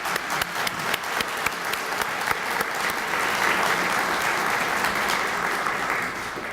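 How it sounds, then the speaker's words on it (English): Audience applause at a Black History Month celebration event, a steady round of clapping from a crowd that builds and sustains for several seconds with no talking over it. "I'd love if you guys would join me in a round of applause."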